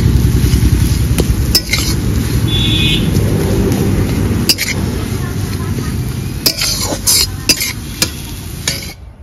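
A spatula stirs kochu pata bata, a mashed taro-leaf dish mixed with ground spice paste, in a pan over steady low cooking noise, with sharp scraping clicks against the metal at irregular intervals.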